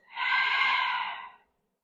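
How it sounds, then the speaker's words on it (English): A single long, steady exhale through the nose or mouth during a slow yoga flow, close and soft, swelling quickly and fading out after about a second and a half, with no talking. "Breathe out."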